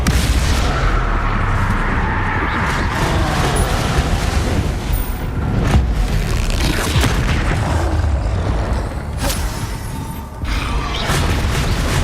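Confringo fire spells burst in the Hogwarts Legacy video game, a loud, continuous barrage of booming explosions and impacts layered over dense game noise across the whole stretch.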